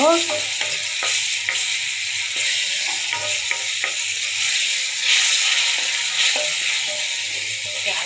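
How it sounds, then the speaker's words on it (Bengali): Ginger-garlic paste with onions and chillies frying in a pan, a loud, steady sizzle with repeated stirring scrapes throughout. "এটা হালকা একটু ভাজা দিয়ে নিব"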